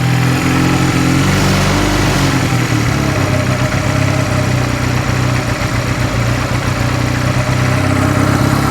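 A Honda Rebel 250 motorcycle engine that sat for 11 years runs steadily at close range, a loud, continuous, slightly uneven idle with no talk over it.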